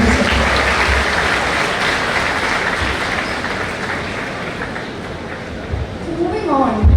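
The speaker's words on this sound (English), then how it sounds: "can we have a huge round of applause for answering this question?" Audience applause at a technology festival, a dense, steady wash of clapping from a crowd that holds for several seconds with a slight swell near the end.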